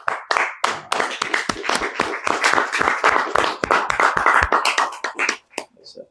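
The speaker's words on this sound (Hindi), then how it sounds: "अच्छा, एक तो देख के ताली बजा रहे हो या समझ में आया वाक्य में ताली बजा रहे हो?" An audience clapping, a ragged burst of many hands slapping loud and close in an irregular rhythm for several seconds, thinning out toward the end.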